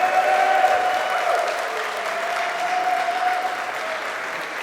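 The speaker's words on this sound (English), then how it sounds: "can we have a massive round of applause for our two players up on stage?" A hall audience at a LAN cup semifinal applauds the players on stage, sustained dense clapping that fades slightly toward the end, with faint voices mixed in.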